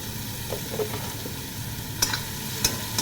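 Asafoetida dropped into hot oil for a quick cabbage stir-fry, giving a low steady sizzle with a few sharper crackles and spatters standing out near the end.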